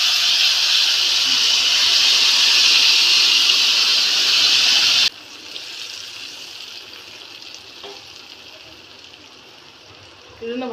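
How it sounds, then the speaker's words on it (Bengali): Tamarind puree poured slowly into a hot frying pan over fried ingredients while making tamarind chutney gives a loud, steady sizzling hiss that cuts off sharply halfway, leaving a quieter simmer. "এখন আমি দিয়ে দিচ্ছি তেঁতুলের পিউরিটা। তো আস্তে আস্তে ঢেলে দিচ্ছি।"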